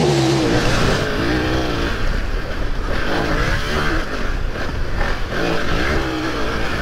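A BMW F900 GS Enduro motorcycle engine runs while riding, a loud continuous drone shifting in pitch as the bike accelerates and eases off, with heavy wind rush throughout.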